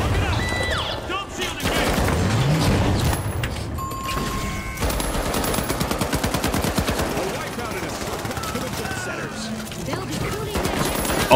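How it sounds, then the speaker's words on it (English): Rapid bursts of SA-1216 shotgun fire in a first-person shooter game, loud and close, layered with other game gunfire and effects, with a voice talking over parts of it. "Go with the precious SA-1216."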